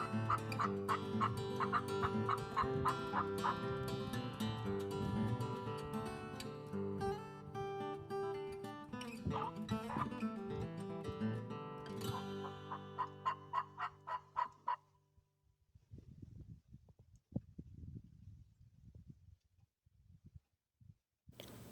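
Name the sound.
turkey call imitating turkeys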